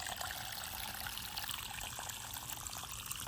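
Irrigation water running into the ridges of a freshly sown carrot field, a faint, steady trickling and flowing with a continuous outdoor hiss and no speech.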